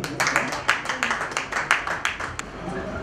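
Audience at an evening music event clapping to welcome guests, a short burst of moderately close, uneven claps that thins out toward the end.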